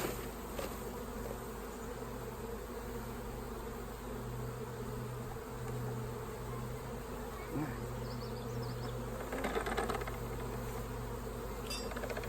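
Honeybees shaken from a hive into a bucket for a varroa mite check buzz in a dense, steady drone close by, with brief louder rustles and taps near the end.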